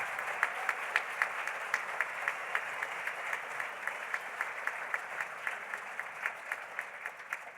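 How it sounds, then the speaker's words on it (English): Sustained audience applause for Native relatives at a justice gathering, a steady dense wash of clapping with sharper individual claps standing out, continuing evenly throughout with no talk over it. "if we could give one more round of applause for them"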